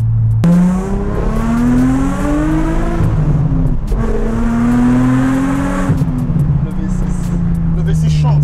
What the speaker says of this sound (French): Le V6 chante.